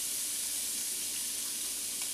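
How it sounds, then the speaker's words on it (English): Onions and celery frying in heated olive oil in a pan, a soft, even hiss that runs steadily and fairly quietly through the whole short stretch, alone without talk. "a little olive oil in the pan, get that heated. We're going to throw in our onions,"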